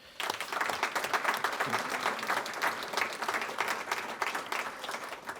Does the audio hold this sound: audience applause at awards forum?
yes